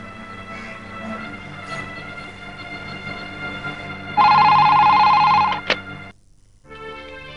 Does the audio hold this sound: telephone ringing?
yes